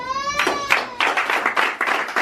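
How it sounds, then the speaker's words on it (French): An audience applauding at a Congolese community celebration with mothers, bursts of clapping rising after a brief tone, fairly close and lively. "Si vous applaudissez, s'il vous plaît."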